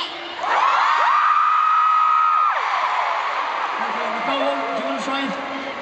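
In a packed Croke Park stadium during a concert, a child belts out a long, steady, high-pitched shout of about two seconds. Lower voiced calls follow over a continuous crowd din.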